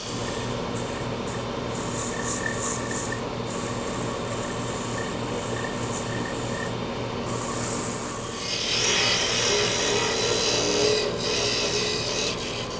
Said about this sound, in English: Do a little bit of sanding